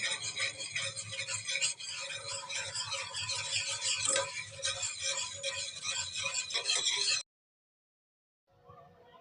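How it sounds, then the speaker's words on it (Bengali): Whipped yogurt being stirred into milk in a bowl, a steady close scraping swirl that runs continuously for about seven seconds, then stops abruptly before a faint return near the end. "এরপর আমি এই দইটাকে দুধের সাথে মিশিয়ে দিচ্ছি।"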